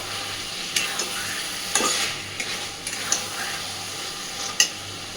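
Dhaba-style chicken curry with fried onion paste sizzles steadily in a pan while a spoon stirs it, giving occasional sharp scrapes over the continuous frying hiss; no voices.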